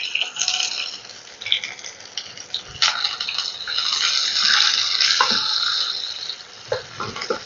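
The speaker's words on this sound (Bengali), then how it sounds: "হাই ফ্লেমে আমি পেঁয়াজটা ভেজে নিচ্ছি।" Chopped onion frying in oil over a high flame: a continuous bright hiss with occasional clinks and crackles, close by.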